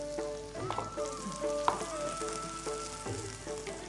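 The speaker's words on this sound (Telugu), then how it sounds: "కాకరకాయ ముక్కలు వేగిపోయాయి ఇప్పుడు" Bitter gourd pieces sizzle and fry in hot oil in a home kitchen pan, a steady crackling hiss broken by repeated stirring scrapes and clinks, fairly quiet and close.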